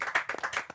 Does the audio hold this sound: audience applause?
yes